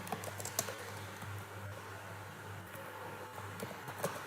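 Soft, quick keystrokes tap on a computer keyboard while Cisco configuration commands are entered, a faint, irregular run of clicks over a steady electrical hum.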